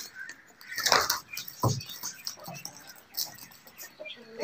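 Roosters in a cockfight, with brief loud squawks and clucking bursts near the start followed by scattered fainter fowl sounds and scuffling, under some background noise.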